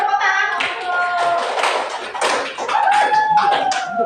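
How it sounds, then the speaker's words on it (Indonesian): Audience clapping at a career-potential session, a burst of hand claps and taps mixed with children's and adults' voices talking and chattering over it, fairly close and lively throughout. "Beri tepuk tangan untuk"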